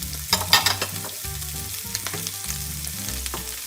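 Onion, red peppers and garlic frying in oil in a pan, a steady close sizzle with scraping and stirring clatter, no voices.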